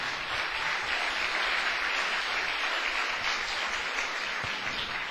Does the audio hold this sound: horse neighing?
no